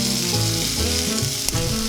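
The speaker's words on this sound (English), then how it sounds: "Add a spoon of coconut oil to a hot pan and add the onions with a bit of salt." Onions with a pinch of salt sauté in coconut oil in a hot pan, giving a loud, close, continuous sizzle with a sharp clack near the end as the spoon stirs. No one speaks.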